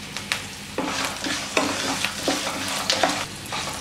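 Green chilies, curry leaves and salt frying in hot oil for Andhra-style lemon rice, a steady close sizzle broken by repeated scraping stirs of a spoon in the pan, with no talking.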